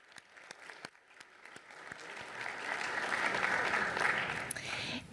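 Audience clapping at a city commission meeting, starting with scattered individual claps and building into full, sustained applause.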